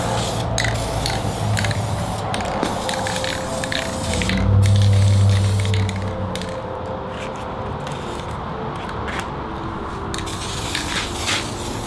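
A spray can of primer hisses steadily in short bursts over several seconds as car brake calipers are painted, close by, with faint rustling and handling noises between sprays.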